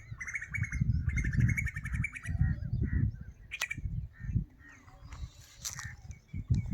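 Several birds chirp and tweet near a calm village pond, bright repeated calls over a soft low rumble of wind or handling, with a brief coo-like note and occasional sharp peeps.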